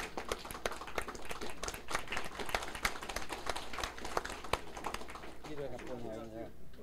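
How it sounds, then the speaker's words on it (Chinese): Audience clapping at a lecture class: a room of people applauding with crisp, irregular claps, fairly close and steady, fading into a voice speaking near the end. "来，大家鼓掌。"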